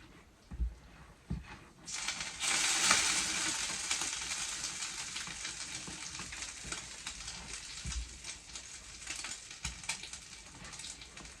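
Butter melting in a pan for eggs gives a steady, bright sizzle that starts about two seconds in and holds, with a few soft knocks of a silicone spatula at the start and scattered through.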